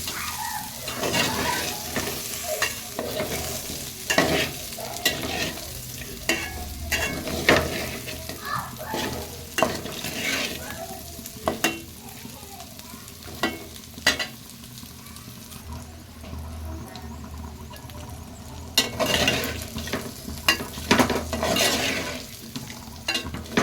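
Chicken fry is stirred in a pan, a steady oily sizzle under repeated scraping and turning strokes that come in irregular bursts, close by and moderately loud, without any talking.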